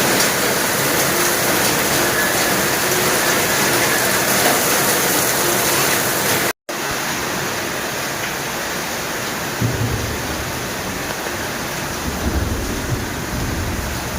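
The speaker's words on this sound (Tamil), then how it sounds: "அன்னைக்கு நைட்டே வந்து சரியான மழை ஸ்டார்ட் ஆயிடுச்சு" Heavy rain pours down at night, a dense steady hiss that runs unbroken and loud throughout, with low rumbling undertones, apart from one brief cut in the middle.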